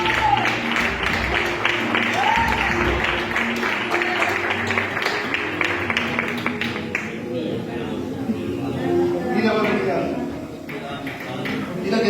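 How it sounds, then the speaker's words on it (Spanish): Church congregation clapping in applause during a Spanish-language sermon, a burst of rapid clapping for several seconds that fades into murmuring room noise with voices. "Le das un aplauso al Señor."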